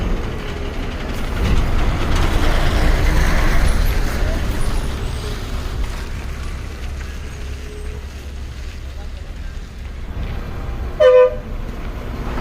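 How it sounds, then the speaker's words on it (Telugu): An ordinary bus pulls into the busy Mahabubnagar bus stand amid a low rumble of engines and traffic, with a short horn toot near the end and people talking in the background. "ఇప్పుడు వస్తున్న bus ordinary Mahabub Nagar to Madhur"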